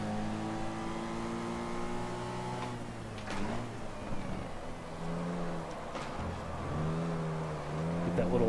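A small Mini race car's engine in the GT Legends racing game holds a steady, loud drone, with pitch rising and falling through gear changes, sharp dips on braking, and revving climbs out of corners.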